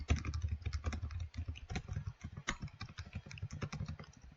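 Rapid, irregular clicks come from a computer keyboard as lines of C++ code are typed, close and fairly quiet, with keystrokes arriving in quick bursts and no talking.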